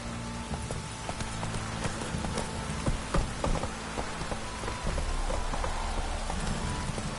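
Horse hooves clip-clopping steadily in The Witcher 3 video game, a continuous trotting rhythm under a dense wash of rain.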